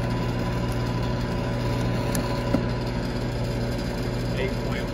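Compressor of an Amana APH15 HVAC unit running steadily, a loud continuous mechanical drone with a low, even hum that holds unchanged throughout, close to the listener.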